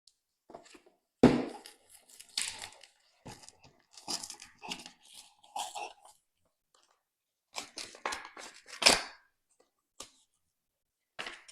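Paper tearing and crinkling as a sealed paper envelope from a board game expansion is opened, close and quiet in scattered bursts separated by silence, with a few sharper rips.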